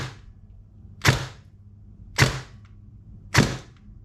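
An airsoft gun firing 0.28 gram BBs gives three sharp, evenly spaced shots about a second apart, each a close, loud crack that fades quickly over a faint steady background hum.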